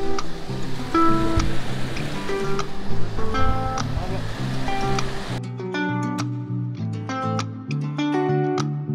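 Water flows steadily inside Robbers Cave near Dehradun, with a continuous rushing wash beneath people talking and musical tones.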